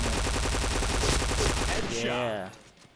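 A P90 airsoft gun fires in rapid bursts, a dense run of close mechanical clacks for about two seconds before the shots stop and a voice speaks briefly.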